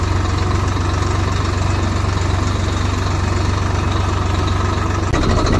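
A small tractor engine idles steadily at close range, a constant low rumble with no voices over it.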